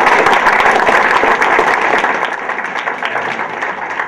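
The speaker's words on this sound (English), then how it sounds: "let's give them one more applause so we can get it out of our system" A crowd gives sustained applause at a political debate, dense clapping filling the room for several seconds before gradually thinning out.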